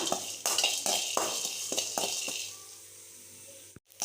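Fennel seeds and a sprig of curry leaves roast in a dry pan. A metal spoon scrapes and clinks against the pan in a quick, uneven rhythm under a soft crackle. The scraping stops partway through and a faint sizzle carries on alone.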